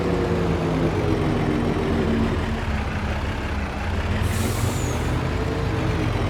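Truck being parked in the video game Farming Simulator 25, a loud continuous air brake hiss over a rumbling idling engine, steady throughout with a brief higher whine near the end.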